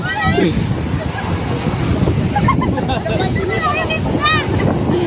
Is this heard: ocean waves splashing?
yes